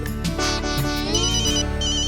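A mobile phone ringtone plays a bright electronic melody, steady and fairly loud, with no voices over it.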